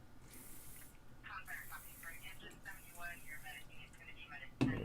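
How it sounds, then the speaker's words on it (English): Cleaner is sprayed onto a gun part in several hissing bursts spread across the clip, fairly close, with a person talking over them. "I'm going to spray it on here."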